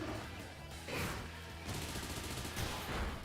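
Bullet Punch attack effect from a Pokémon video game battle: a rapid, dense volley of sharp punchy impacts like gunfire, fairly quiet and steady over a few seconds.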